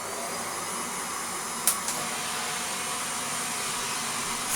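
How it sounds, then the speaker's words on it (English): Shark NV680UK Powered Lift-Away vacuum cleaner running with a steady, loud high-pitched motor whine and broadband airflow hiss, with a couple of brief clicks partway through and no talking. "with a Shark power speed lift away"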